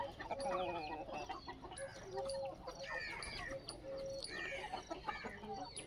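Desi free-range chickens on a poultry farm, several birds clucking and calling close by in overlapping bursts, with higher squawks over a low background hum.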